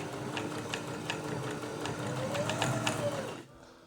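A Janome MyStyle 16 domestic sewing machine runs under foot-pedal power, a close, steady whirring hum with rapid needle clatter that rises slightly in pitch before stopping abruptly near the end.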